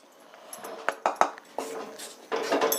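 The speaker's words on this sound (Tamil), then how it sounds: "இந்த கடலை மாவை நம்ம நல்லா வறுத்துக்கலாம்." Gram flour being roasted in a pan for Mysore pak, heard as close metallic clinks and scrapes of a spoon against the pan, in short irregular bursts.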